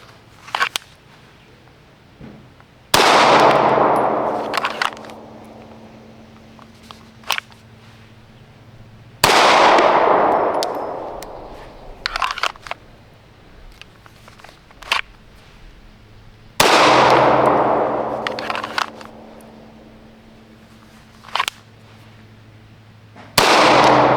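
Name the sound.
Wilson SFX9 pistol shots fired repeatedly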